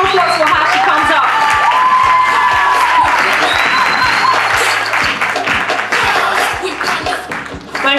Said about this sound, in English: Please, a round of applause for how she comes up.